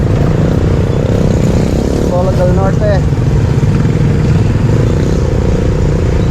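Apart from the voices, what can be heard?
heavy road traffic in Antipolo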